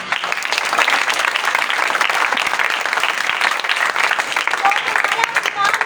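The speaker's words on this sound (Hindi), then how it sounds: "अब तालियां बजा सकते।" A church congregation claps in applause during a Christian sermon on faith and hope, a dense, steady wash of many hands that fills the whole stretch without a break.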